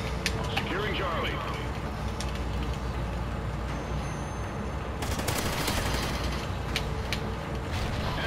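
Rapid-fire gunfire from a Call of Duty domination match, a continuous fast rattle of shots at moderate distance under game sounds, with a denser burst partway through.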